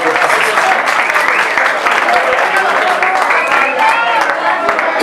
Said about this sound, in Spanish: El aplauso maravilloso para ellos.